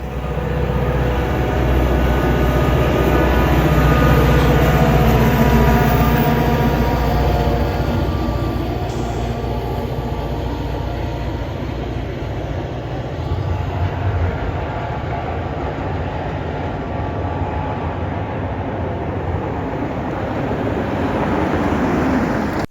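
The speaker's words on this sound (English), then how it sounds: "We see METX 102 leading northbound." Metra METX 102 leads a northbound holiday train in wintertime Chicago, a loud, close, sustained roar of engine and rolling wheels with rumbling low tones that eases slightly as it passes, no voices.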